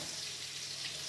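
Eggplants fry in a pan, giving off an even, continuous sizzle at moderate volume, heard alone without any talk.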